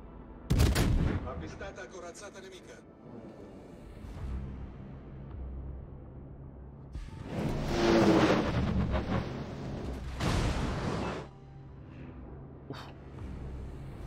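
Main battery guns of the Venezia warship firing in World of Warships: a sharp opening blast, then a heavy rumbling salvo mid-clip with booming tails and quieter background rumble.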